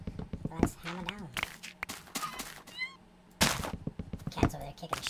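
Several short cat meows from Minecraft rise and fall between clicks, thumps and footstep-like game effects, with one louder burst near the end.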